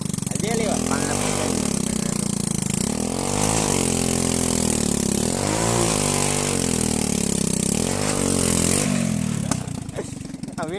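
A Swaraj tractor engine runs during a test drive, a close, loud throb that swells and falls in repeated revving surges every couple of seconds, with voices in the background.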